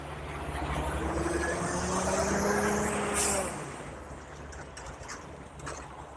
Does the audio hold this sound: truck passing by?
yes